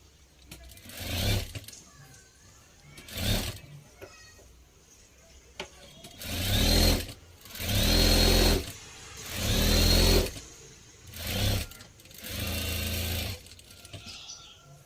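A sewing machine stitching a sleeve runs in short bursts, a few brief ones and then several longer steady whirring runs separated by pauses, close up and clear, with faint handling noise between.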